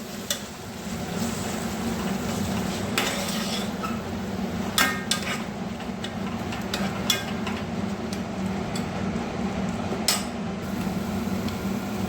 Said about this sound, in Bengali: এরপর ভালোভাবে একটু মশলাটা একটু ভেজে নেব।